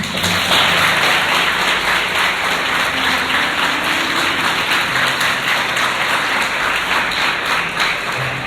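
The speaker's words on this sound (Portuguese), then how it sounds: "Aplaude Pedro em nome de Jesus" A church congregation applauds during a sermon, steady loud clapping from many hands that holds through the whole stretch with a dense, even rhythm.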